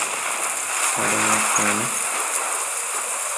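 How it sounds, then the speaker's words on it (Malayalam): Heavy thunderstorm rain in the game Life is Strange, a dense continuous hiss filling the scene, with a brief spoken word over it. "ഇടി മഴ"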